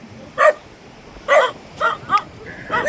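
A dog barks on a coastal village hike, giving four or five sharp, close barks spaced irregularly with short gaps between them.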